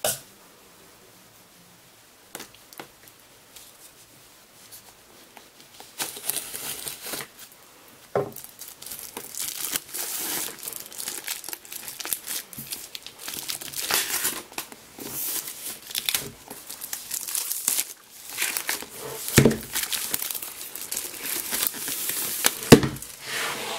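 Plastic packaging on a deluxe music album crinkles and tears close up during unboxing, with scattered rustles after a quiet start building into busy, irregular crackling and handling noises.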